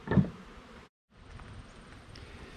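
Honeybees buzzing around backyard hives, a faint low droning hum that drops out for a moment before resuming, with no one speaking.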